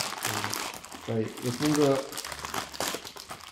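A Chio chips bag crinkles and rustles in loud bursts right up close, while a person talks over the crackling plastic.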